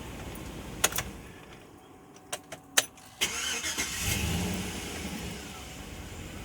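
A 2008 Chevrolet Suburban with a cylinder 4 misfire cranks and starts after a few sharp clicks and knocks, then catches and settles into a steady running engine close by, with no talk.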